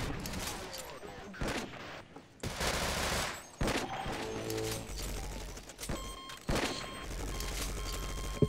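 A heavy gunner in the Half-Life co-op game Sven Co-op unleashes sustained bursts of automatic gunfire, loud rattling volleys broken by short pauses, while players talk excitedly over the action.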